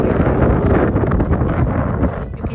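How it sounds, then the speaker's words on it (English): Strong wind roars loud and steady across the microphone at a high mountain lookout near glaciers on Whistler Mountain, a continuous gusty buffeting that fills the whole moment without letup. "You can hear the sounds of the wind. So strong."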